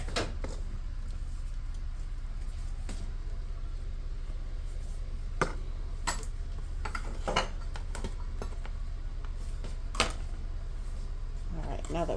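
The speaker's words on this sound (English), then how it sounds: "Let me get a chopping board." Kitchen clatter as a chopping board is fetched and set down: scattered knocks and clinks of board and utensils over a low steady room hum, with several louder thumps spread across the stretch.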